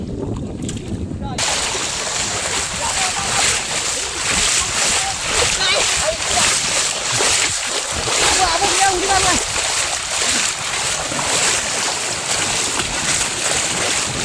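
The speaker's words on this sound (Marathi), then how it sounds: "तर आम्ही आता पाणी पूर्ण गदलवतोय कारण का मासा पूर्ण आमच्या जाळीमध्ये अडकेल." Konkan fishermen churn the shallow water so fish get caught in their net, making steady, close splashing and sloshing that runs almost the whole time, with wind buffeting the microphone.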